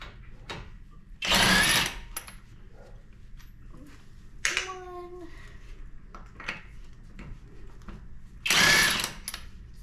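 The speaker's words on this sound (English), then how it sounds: "So now we're gonna take the lugs off the tire." Lug nuts coming off a 2013 Toyota Sienna wheel, with three loud bursts of a power tool whirring against the nuts, separated by quieter ratcheting and mechanical clicks.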